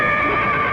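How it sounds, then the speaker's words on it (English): A horse whinnies loudly and continuously close by, with no talk over it, set in a rural-style home scene. "I thought I heard a horse"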